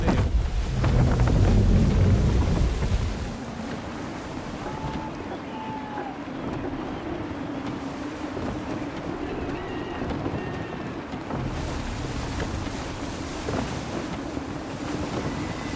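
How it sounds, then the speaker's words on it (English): Wind gusts and ocean waves wash around a sailing ship in the Assassin's Creed III video game, a loud, steady roar that is heaviest in the first three seconds, then settles into a constant rushing swell. "Wind looks to be shifting. Stay alert, Connor. Gusty winds can be difficult to manage."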